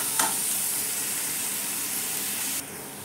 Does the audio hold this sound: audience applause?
no